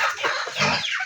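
A native chicken clucking close by in a backyard farm, one short burst of throaty clucks lasting about a second.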